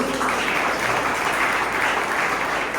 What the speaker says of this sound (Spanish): Si usted lo cree, un aplauso muy correcto.